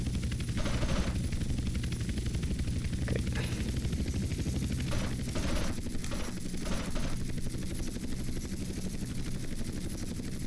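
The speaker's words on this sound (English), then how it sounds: "the machine gun sounds different this time" Rapid machine gun fire in GTA: San Andreas rattles in bursts over the constant thudding drone of helicopter rotors, loud and continuous throughout.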